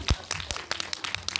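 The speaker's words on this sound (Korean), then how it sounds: "박수 한번 다시 쳐주셔도 네." An audience at an indie film talk event claps, a short burst of scattered hand claps close to the microphone, brisk and uneven, with no one speaking over it.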